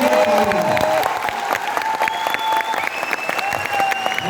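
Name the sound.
audience applauding in a hall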